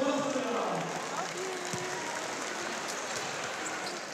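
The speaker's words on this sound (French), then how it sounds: "je crois qu'on peut l'applaudir très très fort" An audience claps for a returning guest at a French charity event, a steady wash of moderately distant applause that continues throughout with no clear pauses.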